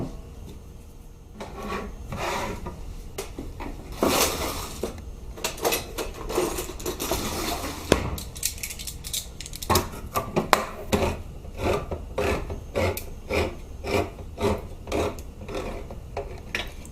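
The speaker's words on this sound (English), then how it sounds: "all you do is get the cans open" Cans for coquito are opened with rhythmic rasping, grinding scrapes close by, repeating in quick strokes with brief pauses, and no talk.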